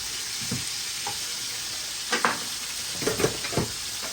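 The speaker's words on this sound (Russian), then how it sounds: "Немножечко обжарим." Hake fillets frying and being stirred in a pan, a steady close sizzle broken by a few louder spatters and scraping bursts.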